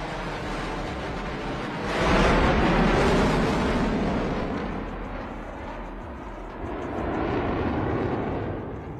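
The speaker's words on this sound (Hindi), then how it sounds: "और ये सुखोई 30 एक बार फिर यहां पर इस एयर शो के दौरान प्रदर्शन किए जा रहे हैं" A Sukhoi Su-30 fighter jet roars past during an air show display, a loud broadband rush that swells around two seconds, eases slightly, then builds again, with no voices.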